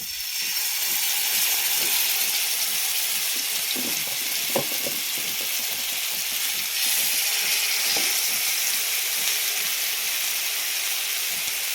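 Masala-coated tandoori chicken fries on a tawa with a loud, steady sizzle and spitting hiss throughout, punctuated by a few light pops, close up and with no talking.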